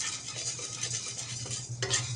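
Sorghum grains stirred in a hot pan, a continuous close scraping and rustling of grain against metal, with a sharper clink near the end.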